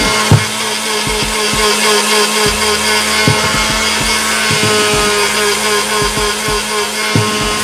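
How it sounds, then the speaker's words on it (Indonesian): An electric blender grinds grated coconut with dry spices. It runs as a loud, continuous whir with rough, rattling clatter as the mixture tumbles against the jar. "Kita blender selama 1 menit ya."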